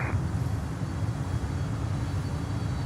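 Air Canada cargo jet at an airport, a continuous broad roar of engines heard from a distance, steady and without breaks.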